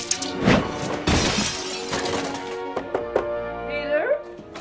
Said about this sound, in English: He pulls the lamp towards himself and is forced to duck out of the way as it sails past him and shatters against the wall.